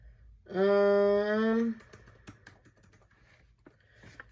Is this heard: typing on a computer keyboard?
yes